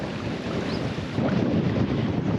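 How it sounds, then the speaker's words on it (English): Strong Western Australian coastal wind buffets the microphone with a continuous rushing roar that swells louder partway through. "It's real windy too."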